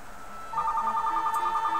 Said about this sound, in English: And that nice infamous phone calls coming in.